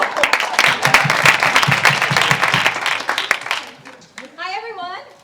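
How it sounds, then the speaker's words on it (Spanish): Applause and cheering from an audience at a children's presentation mixes with a voice over a microphone, and the sound thins out toward the end as the talking continues alone. "Aplauso."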